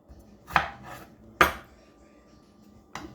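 A knife cuts through a tomato on a board, producing three separate crisp chopping knocks spaced about a second apart, close and fairly quiet.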